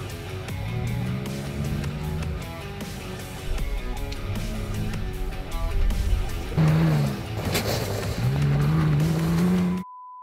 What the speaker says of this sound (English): We just got our first Bronco Raptor in, and I'm allowed to go check it out and drive it